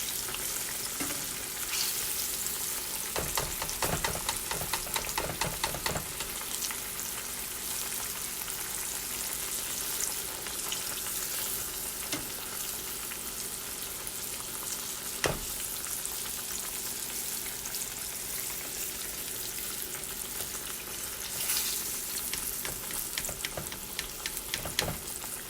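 Green tomatoes fry in hot oil with a steady, busy sizzle and crackle, broken by a few sharper pops and spatters.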